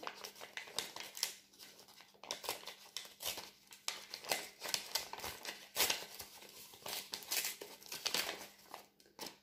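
A paper envelope holding a small card is opened by hand, with faint, close crinkling and tearing of paper in irregular rustling bursts, quiet throughout with no talk.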